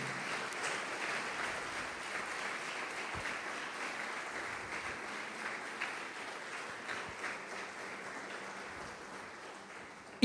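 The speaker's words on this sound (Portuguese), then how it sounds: "Aleluia, pode aplaudir o Senhor." Steady applause from a church congregation fills the room during a sermon, a continuous wash of clapping that holds at an even level throughout.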